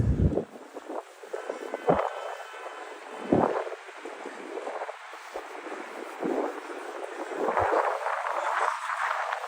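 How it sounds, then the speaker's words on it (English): Gusty wind buffets the microphone beside a new building on a frigid winter day in Brooklyn, New York City, rising and falling in low rumbling surges with occasional sharp gust bursts, steady throughout and no talking. "little bit of wind coming off this building right here."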